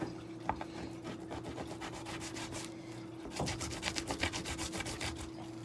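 A knife sawing through salmon to halve it, producing faint rhythmic rubbing strokes against a steady background hum, quickening into a denser run of strokes in the second half.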